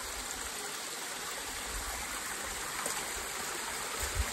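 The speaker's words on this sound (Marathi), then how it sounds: "हा लहानसा धबधबा." Small waterfall at Sinhagad Fort runs down stone steps with a steady, soft rushing and trickling flow, fairly faint and continuous with no voices.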